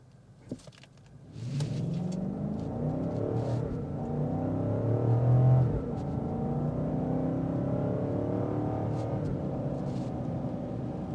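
A 2026 BMW X6 M60i with an S68 engine revs up and accelerates steadily with a throaty exhaust note, rising in pitch and holding loud for several seconds.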